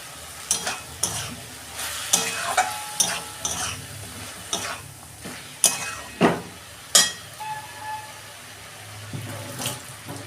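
Banana flower curry with sugar sautéed in a pan, heard as continuous sizzling with frequent scraping and clacking strokes of a spoon against the pan, close and busy, with no one speaking.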